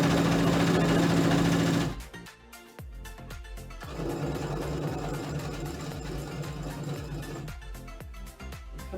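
Sewing machine stitching a fabric placemat cutlery wrap, running loud and steady in a continuous whirring drone, briefly slowing near two seconds before speeding up again into fast, rattling stitching.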